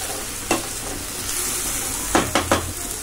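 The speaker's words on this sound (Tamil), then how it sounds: "இஞ்சி பூண்டு போட்டு நல்லா வதக்கி விட்டுடுங்க." Ginger, garlic and onion sauté in a pan for a rajma paneer gravy, a steady frying sizzle broken by a few distinct scrapes of a spoon stirring against the pan.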